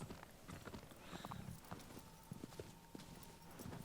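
A horse gallops in Shadow of the Colossus, with rapid, rhythmic hoofbeats clip-clopping steadily at close range and a faint whinny partway through.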